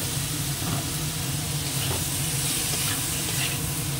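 Taro stems stir-fried with prawns in a pan, a constant loud sizzle and hiss with soft scraping stirs, close and steady without talk.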